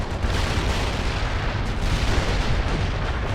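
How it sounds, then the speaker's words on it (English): An artillery strike in the World In Conflict campaign rolls on as a loud, continuous barrage of deep booms and rumbling blasts, dense and unbroken for the whole stretch with no voices. "For anything that manages to get through the artillery strike."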